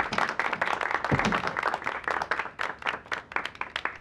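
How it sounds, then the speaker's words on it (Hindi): A small group claps for Akbar Sahab, sparse distinct handclaps in an uneven rhythm, fairly close, with individual claps standing out rather than merging into a roar. "अकबर साहब के लिए सब मिलकर तालियां बजाएं"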